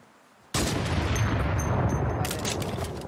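Loud video game gunfire erupts suddenly and continues as a dense, sustained burst of booming shots, close and overwhelming, with a brighter rattle toward the end.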